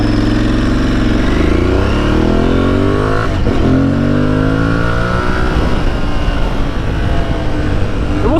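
An Aprilia Tuareg 660 motorcycle engine revs loud and close, rising and falling in pitch through several aggressive throttle blips and accelerations.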